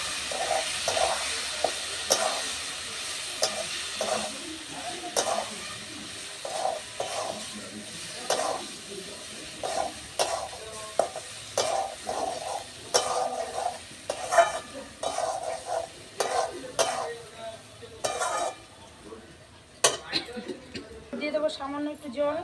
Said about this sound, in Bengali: এবার সব কিছু একসাথে আমি ভালো করে কষিয়ে নেব।